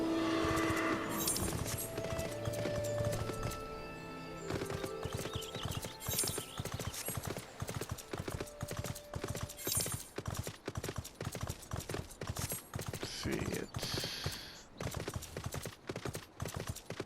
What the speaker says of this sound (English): Oh, also, if you're wondering what this horse is, it's Slipnir.